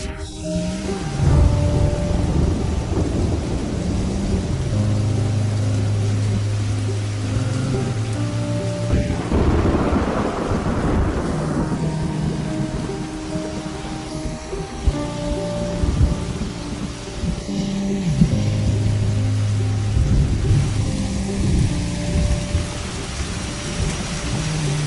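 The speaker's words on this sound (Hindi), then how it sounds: "मैंने कहा था ना, मूसलाधार बारिश होगी।" Heavy downpour pounds steadily while thunder rumbles and rolls through a storm, with low booming swells rising over the constant hiss of rain.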